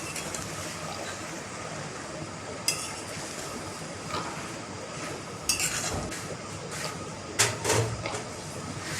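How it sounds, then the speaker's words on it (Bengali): Jute leaves with chillies and salt are stirred in a pan, giving a soft continuous sizzle with occasional scraping clicks and clinks of a spoon against the metal, fairly quiet and close. "আপনারা বেশি পাতাটাকে খালি নাড়তে থাকবেন, যত নাড়বেন তত পাতাগুলো ছাড়বে।"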